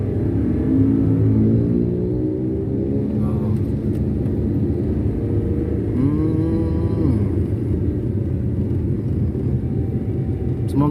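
A Daihatsu Sigra pulls away in first gear, its engine making a steady low drone with a rising whine partway through, heard from inside the cabin as a voice talks over it.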